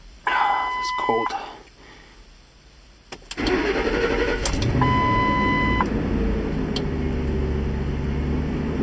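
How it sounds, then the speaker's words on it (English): A few dashboard beeps, then a cold truck engine cranks and catches, settling into a steady idle rumble up close, with another short beep later. "We'll see right now what happens when we start this truck"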